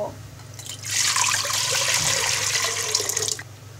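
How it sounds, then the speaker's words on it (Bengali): Water pours steadily into a pan for boiling yardlong beans, a close rushing splash that starts after a brief pause and runs for about two and a half seconds before stopping. "এবার একটি প্যানে বরবটি সেদ্ধ করার জন্য পরিমাণ মতো পানি ঢেলে দিব।"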